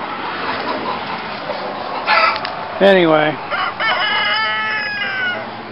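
Chickens cluck and a rooster crows from a chicken tractor parked on garden rows, with a loud crow near the middle and steady outdoor background noise as someone talks briefly.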